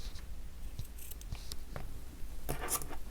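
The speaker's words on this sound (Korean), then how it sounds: "실을 4, 50cm 정도로 잘라주세요." Scissors snip through yarn during a crochet mini bag keyring project, giving a few brief, close crisp cuts over a quiet indoor background.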